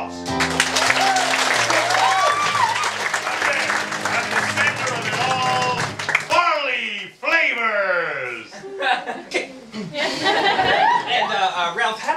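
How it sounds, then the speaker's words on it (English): A packed theatre audience applauds at the premiere of the stage musical Shock Treatment, with clapping blended with loud music for about six seconds, then giving way to voices and laughter. "Applause!"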